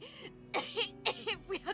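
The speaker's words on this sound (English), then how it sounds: "She stops mid-shout, descending into a fit of coughing, wheezing, and groaning." A woman in the fantasy role-playing game Divinity: Original Sin 2 breaks into a fit of harsh coughing and wheezing, about six short, rasping bursts in quick succession, close and clear.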